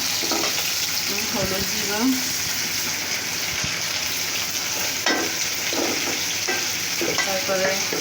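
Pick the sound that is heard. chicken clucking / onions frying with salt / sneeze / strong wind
onions frying with salt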